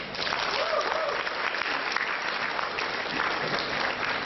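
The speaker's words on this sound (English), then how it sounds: "Let's give her another round of applause." A reception audience applauds, with dense, continuous clapping from a crowd that stays at an even, fairly loud level throughout and has no speech over it.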